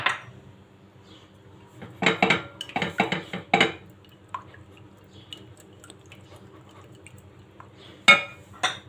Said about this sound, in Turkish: Şöyle bir adet yumurtayı karıştırma kabıma alıyorum.